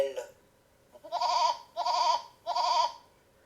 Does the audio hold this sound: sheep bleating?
yes